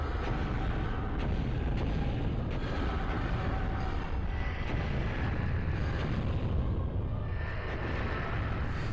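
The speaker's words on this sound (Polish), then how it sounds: "Na koniec musimy uciec przed wybuchem." A rumbling explosion in the N64 game Star Wars: Shadows of the Empire, heard as a dense, continuous roar of blasts and engine noise that stays loud throughout with no voices.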